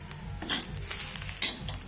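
A utensil scrapes and stirs onions and coconut pieces in a pan over a soft sizzle, with a few clinks of metal close by.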